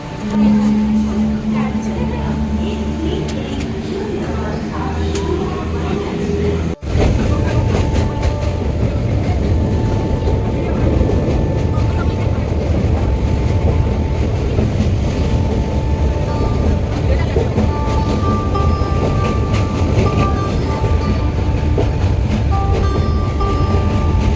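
A train bound for Naihati, West Bengal, rumbles steadily along the rails, with dense low-pitched roar and faint rhythmic clatter; a brief cut early on, then continuous loud running noise.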